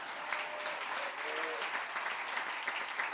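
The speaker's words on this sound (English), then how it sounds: "Can we have one more round of applause for Gavin?" An audience at a hospital groundbreaking ceremony claps in sustained, even applause, moderately distant, with a faint voice briefly audible underneath.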